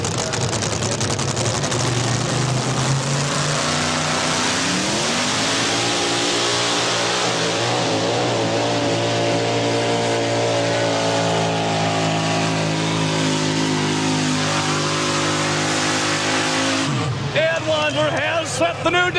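A 6,200-pound four-wheel drive pulling truck roars at full throttle at a 1990 NTPA truck pull in Canfield, Ohio. The engine climbs and holds a loud, steady howl while an announcer talks over it, then it abruptly drops off near the end.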